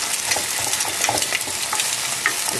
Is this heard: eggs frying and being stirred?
yes